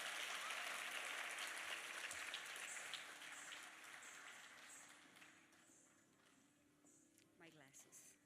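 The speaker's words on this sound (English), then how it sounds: "Please give another round of applause for Isha." Audience applause after a dance solo at an Arangetram performance, a dense, steady clatter of many hands that is loudest at the start and slowly fades, with a few scattered claps near the end.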